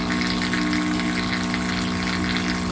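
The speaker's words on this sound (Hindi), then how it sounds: "पहले सिंगल मोटर से अगर इस पंप को चलाऊँगा तो करंट कितना लेता है पहले देखते" A dual-motor high-pressure spray pump rated 220 PSI and 9 LPM runs on only one motor, giving a steady, loud hum with water rushing through it and no change in level.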